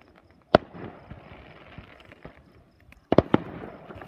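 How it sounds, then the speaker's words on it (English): Fireworks exploding at a Fourth of July celebration: a sharp single bang, then a quieter stretch of crackling, followed by a rapid pair of loud bursts and another pop, heard nearby without talk. "Fireworks."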